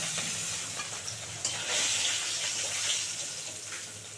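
Pomfret fish fry in a pan, giving a soft, steady sizzling hiss that swells slightly in the middle; the sound stays quiet and close, with no voices.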